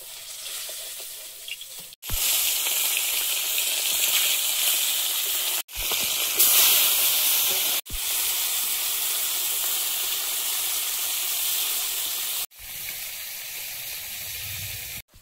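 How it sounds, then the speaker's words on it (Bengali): Small chuno fish sizzle loudly in hot oil, a steady broadband frying hiss broken by a few brief pauses, close and alone with no talk. "তুলে নিয়ে চুনো মাছগুলো ভেজে নেব"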